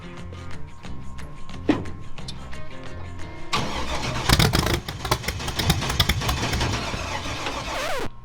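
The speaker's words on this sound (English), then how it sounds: "I'm gonna get in, start it up, let it warm up" A car's engine cranks briefly, catches and starts, then settles into a loud, close idle with some revving as it warms up, rattling clatter heard over the running motor.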